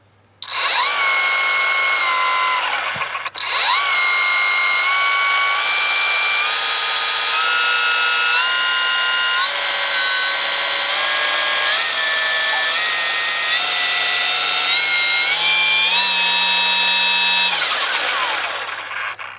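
A Greenworks 40-volt battery string trimmer runs steadily on power level 2, its high motor whine holding for about fifteen seconds with small pitch shifts, close and loud, with no talking.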